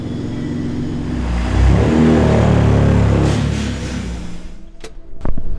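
A BMW F80 M3 with a straight-piped exhaust roars loudly up close, swelling into a sustained rev before dropping back, followed by a few sharp pops and crackles near the end.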